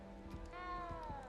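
A cat in the video game Hogwarts Legacy gives a drawn-out meow with a rising then falling pitch, clear and close over a faint ambient game background.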